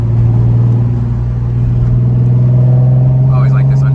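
A Nissan 350Z Nismo drives along at steady speed, its loud low engine drone constant throughout and close up, with a faint higher mechanical whine near the end.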